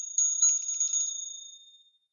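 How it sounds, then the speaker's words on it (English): A bell being rung: one bright metallic ding with a short shimmering rattle that then rings out and fades over about two seconds, heard alone. "ring the bell and get us back"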